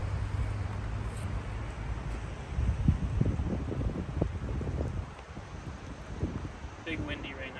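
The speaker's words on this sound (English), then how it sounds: "Big windy right now." Gusty wind buffets the microphone with low rumbling roar that rises and falls, and a voice speaks briefly near the end, on a disc golf course.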